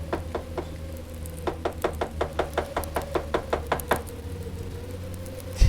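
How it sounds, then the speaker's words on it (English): Knocking at a chamber door, a series of light, sharp taps in quick even succession that stop after about four seconds, over a quiet steady background hum. "suddenly there came a tapping, as of someone gently rapping at my chamber door"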